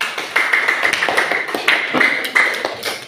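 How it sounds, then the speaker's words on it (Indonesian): A short burst of applause from a small group at a teacher coaching session, rhythmic patters of clapping close by, rising and falling over a few seconds without speech. "Beri aplaus untuk semuanya"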